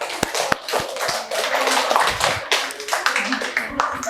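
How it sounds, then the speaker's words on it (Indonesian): Meeting participants clap in a scattered round of hand claps, some sharp individual claps standing out near the front, with voices talking over and between them. "Berikan tepuk tangan"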